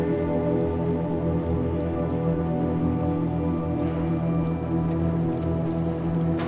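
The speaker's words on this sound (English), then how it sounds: "It feels so good to be in the rain." Rain falls in the video game Little Nightmares 2 as a steady, even patter of droplets, joined by a low continuous hum throughout.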